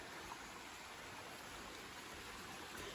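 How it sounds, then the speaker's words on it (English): Spring water runs over rocks in a rural pasture, giving a steady, faint, hissing wash that stays even and continuous throughout with no voices. "what you hear is actually the spring going over the rocks"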